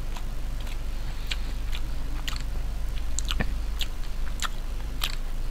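Close chewing of stir-fried ramen noodles, with repeated soft wet bites and chomps at an irregular pace over a steady low background hum, no speech.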